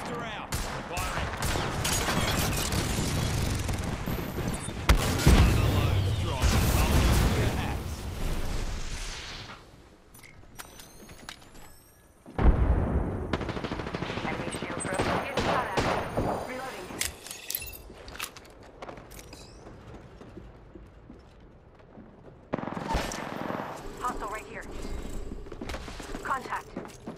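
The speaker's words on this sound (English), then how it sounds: "Double blaster out. Firing." Bursts of weapon fire in the battle royale shooter Apex Legends, loud clustered shots and booms separated by quieter stretches of footsteps and movement, with in-game voice callouts mixed in.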